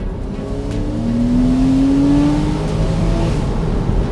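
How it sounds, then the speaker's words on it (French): A Porsche 997 Carrera cabriolet engine revving hard through the gears, a loud, rising in-cabin howl that climbs in pitch, shifts, and climbs again, with no talk over it. "Là j'ai passé le rapport à 6000"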